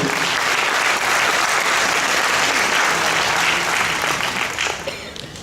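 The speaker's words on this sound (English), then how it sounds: "Ladies and gentlemen, a round of applause to Dr. Harshana Rambukwella." Dense applause from an audience at a school drama awards ceremony, a thick sustained wash of many hands clapping together that holds steady, then begins to thin and fade toward the end.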